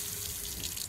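Water gushes steadily from a tap for a brief, continuous moment, a close, bright splashing rush with no voices.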